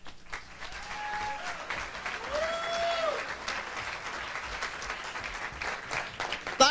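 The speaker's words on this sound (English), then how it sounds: "Round of applause again for my friend Grant Turner there" A comedy club audience applauds a comedian with steady, sustained clapping that holds at an even level for several seconds, and a few faint whistles rise above it.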